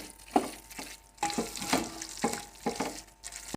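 Grated carrot halwa sizzles in oil while being roasted and stirred in a pan, with a spoon scraping through it in regular strokes about every half second and a soft frying hiss throughout.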